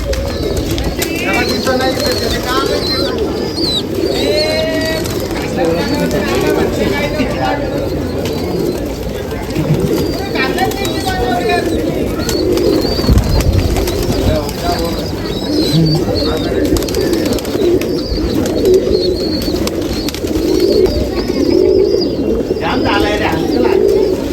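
A crowd of pigeons gathered at a rooftop loft in Nashik coo continuously near the microphone, a dense, loud flock sound, with people talking underneath throughout.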